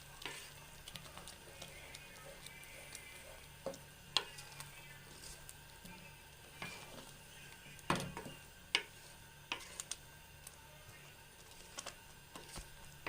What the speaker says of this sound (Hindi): ये देखिए इस तरह आप प्याज को इसके अंदर मिक्स कर दीजिएगा अच्छी तरह से।